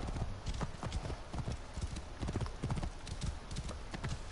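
Steady clip-clop of horse hooves galloping in Assassin's Creed Origins, a continuous close rhythmic patter with no speech over it.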